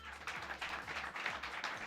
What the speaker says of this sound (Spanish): Un aplauso para los dos